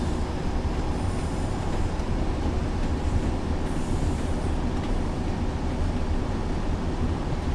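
A Class 142 Pacer diesel multiple unit runs in a train simulator game: a steady, loud, continuous low rumble and rattle of engine and wheels throughout, with no voices.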